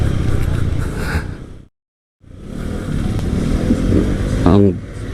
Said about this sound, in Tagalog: Ang motor talaga kaskasiro, singit ng singit, basta makasingit.